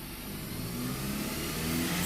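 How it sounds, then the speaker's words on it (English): A car engine revs up as the throttle is pressed, a steady mid-pitched drone that rises and grows slightly louder over two seconds, close by with no talking. "so when I rev it up"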